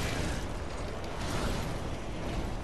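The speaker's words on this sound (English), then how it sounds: "I'm gonna fucking throw fire bombs." Fire bombs burst in Dark Souls during a fight with Iudex Gundyr, a loud, dense, continuous roar of fiery explosion filling the whole moment with no speech over it.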